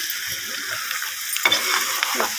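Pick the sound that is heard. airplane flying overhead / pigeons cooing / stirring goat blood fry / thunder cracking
stirring goat blood fry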